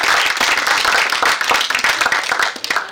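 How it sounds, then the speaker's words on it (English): Audience applause at a literary and arts celebration event, dense steady clapping from a seated crowd filling the whole moment, loud and close with no speech over it. "Guys, you can clap."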